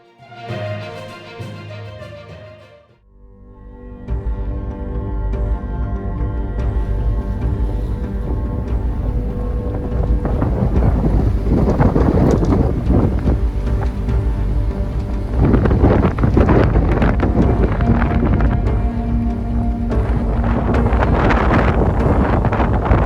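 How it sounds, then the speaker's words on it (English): Strong wind gusting to 47 knots at sea aboard a sailboat roars continuously across the microphone, building into heavy buffeting gusts with rushing, rumbling noise throughout. "Just saw a gust then to 47 knots."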